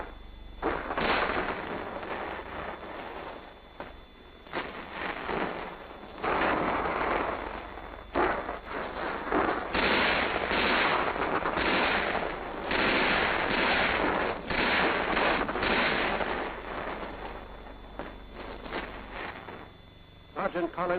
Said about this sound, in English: Each man finds a covered and concealed position and quickly begins rapid fire.